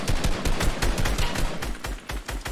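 Rapid bursts of gunfire from a shooter video game rattle loudly and close, shots packed in quick repeated volleys throughout with brief pauses.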